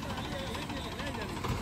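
A tractor engine idles close by with a steady, rough mechanical rumble throughout, with voices faintly present underneath.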